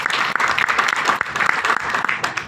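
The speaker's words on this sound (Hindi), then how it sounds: "तो एक बार जोरदार तालियां हमारे इस प्रोजेक्ट के लिए।" Loud, dense applause from an audience celebrating a business project at a plan presentation for Senje Powers Technologies, steady clapping filling the whole stretch without a break.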